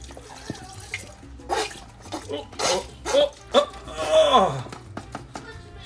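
Beef stock pours into a pan of tamale meat, making a wet splashing and trickling that rises and falls in short bursts. A person talks over it.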